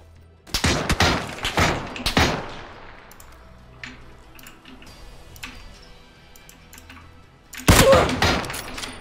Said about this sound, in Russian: Почему я выжил после этого выстрела?